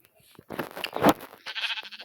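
Sheep bleating in the video game Minecraft, a few short, wavering bleats in close succession over quiet game background.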